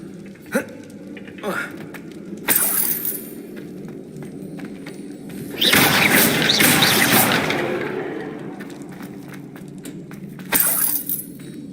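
A Confringo blasting spell erupts in Hogwarts Legacy during a fight with goblins, a loud burst of fiery crackling that swells and fades over a few seconds, set among sharper impact pops and shouted spell names.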